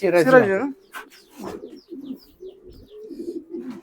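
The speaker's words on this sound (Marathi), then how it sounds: "हे सिराजी कबूतर आहेत ही नॉर्मल ब्रीड आहे" Siraji pigeons, a normal breed kept in a home pigeon loft, give a few soft low coos alongside a brief burst of louder calling at the start, with someone talking close by in between.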